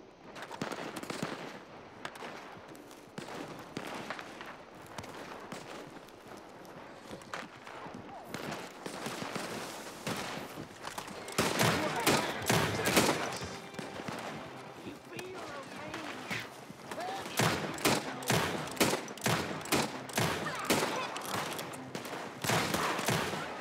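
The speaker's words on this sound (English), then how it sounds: "We got a gunfight going on out here." A gunfight in Red Dead Redemption 2 Online near a camp, with repeated gunshots that grow denser and louder midway into rapid clusters of sharp cracks, while a player talks over parts of it.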